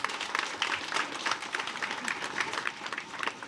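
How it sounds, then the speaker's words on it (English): A morning outreach crowd applauding, brisk uneven clapping from many hands with a faint murmur of voices mixed in, steady throughout. "Give yourself a round of applause."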